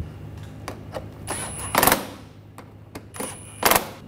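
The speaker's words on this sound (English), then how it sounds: "Tighten those down." Screws are tightened on a plastic trim panel of a 2009-2013 BMW 328i, heard as quiet clicks and two brief bursts of ratcheting or driver rattle at close range.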